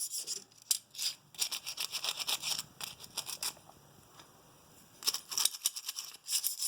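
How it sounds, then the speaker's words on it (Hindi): Small piece of sandpaper rubbed back and forth along a pair of scissors, giving bursts of close, quiet scratchy rasping with short pauses between strokes. "हम एक छोटा सा रेगमाल का टुकड़ा ले लेंगे, उसे अच्छे से इसकी क्लीनिंग करेंगे, उसको रब करेंगे"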